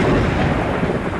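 Rumbling thunder from a lightning strike in the ghost-hunting video game Phasmophobia, a dense, steady low roll filling the whole moment without pause, fairly loud and with no voices over it.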